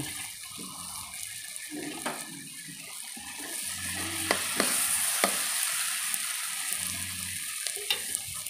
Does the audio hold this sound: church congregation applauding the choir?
no